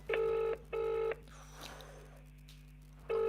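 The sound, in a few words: telephone dialing a call on speakerphone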